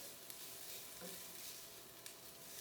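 Garlic sautés in a pan with softened vegetables for enchilada sauce, giving a faint, steady sizzle with a few light scraping ticks.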